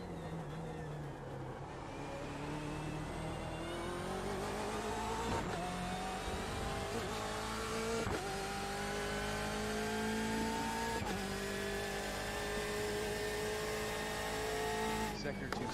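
A GTE race car in a Daytona racing video game drones steadily at high revs, its engine pitch climbing through gears with brief dips at each shift, loud and continuous throughout.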